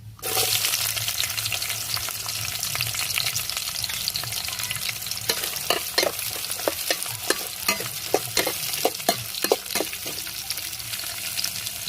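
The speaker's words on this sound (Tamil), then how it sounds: "நம்மளுக்கு எண்ணெய் சூடாயிருச்சுங்க கறி மசாலா போட்டு போட்டுக்கிறோம் இப்போ வெங்காயத்தையும் பச்சைக்காயும் சேர்த்துக்கிறோம்" Curry masala, onion and green chilli fry in hot oil with a steady, dense sizzle throughout, while a spoon scrapes and stirs the pan in irregular clicks and knocks, close and fairly loud.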